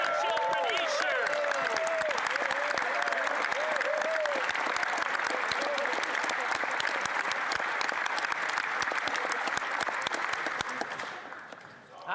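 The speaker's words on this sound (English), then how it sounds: "See, even the Conservatives are cheering" Loud, sustained applause and cheering from members filling the Canadian House of Commons during the November 2025 budget speech, steady for about eleven seconds before tapering off at the end.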